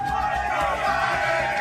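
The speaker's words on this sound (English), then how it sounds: "as you can hear the chants from the crowd" A packed stadium crowd chants "let's go, Brandon" in a loud, dense roar of many voices blended together.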